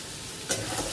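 Taro stems (kochur data) cooking in a pan give a steady, close sizzling hiss, with one brief scraping stir midway.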